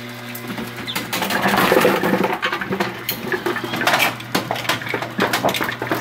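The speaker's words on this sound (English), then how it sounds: "I'm going to run that again for you." A half-scale bowling pinsetter runs as pins feed through a spinning auger, producing irregular clattering knocks and rattles over a steady mechanical hum, fairly close, with no speech.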